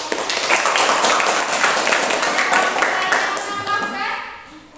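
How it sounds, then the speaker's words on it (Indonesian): Students in a classroom break into applause, a steady dense patter of many hands clapping that lasts several seconds before tapering off near the end. "silakan tepuk tangan jawab"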